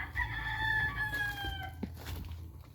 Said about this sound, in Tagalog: So ayan yung manukan dito sa STF.